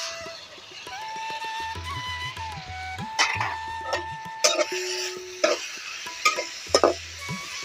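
Tomatoes tossed into a hot pan of pasta over a clay stove, a soft steady sizzle beneath scraping and clinking spoon strokes against the pan, close and moderately loud.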